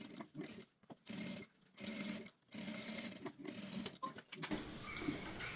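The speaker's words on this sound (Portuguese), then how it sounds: "Já vou aproveitar e passar uma costura aqui e prender toda a voltinha." Sewing machine running in short bursts as it stitches a seam around a small fabric shoulder bag, a close, steady mechanical whirr broken by brief pauses between runs.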